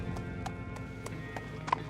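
Horse hooves clip-clop in a steady, evenly spaced rhythm at moderate distance, with a brief whinny near the end, set under a quiet background.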